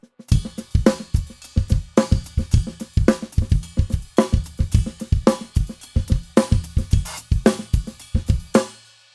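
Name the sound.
drum pattern with ghost notes, accent on the ride bell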